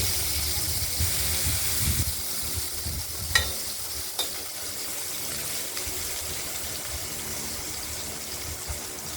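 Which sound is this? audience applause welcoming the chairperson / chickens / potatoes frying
potatoes frying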